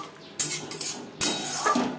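A metal lid is set onto a cooking pan of spices, two clanking contacts close by, one around the start and a louder clatter midway, with a faint simmer between.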